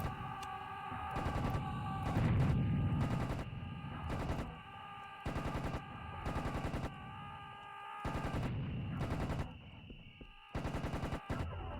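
Rapid bursts of automatic gunfire from the video game Serious Sam: The First Encounter, loud and repeated in several sustained volleys with brief gaps between them, layered over game music and effects.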